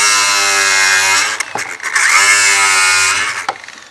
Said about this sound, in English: these screws are stripped out. They won't back out, so I'm gonna go ahead and cut them.